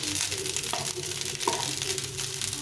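Rice frying in a pan with salt and turmeric, a steady soft sizzle with faint stirring scrapes running throughout.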